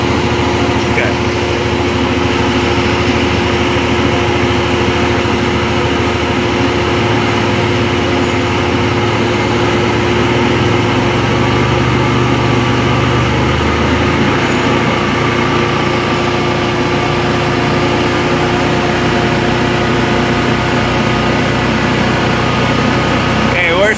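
A 2019 Yamaha Grizzly 700 ATV engine idles just above idle during race testing, giving a loud, steady mechanical drone that holds level throughout without revving.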